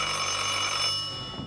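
Telephone bell ringing in a continuous bright metallic trill, steady and fairly loud, cutting off just before the end.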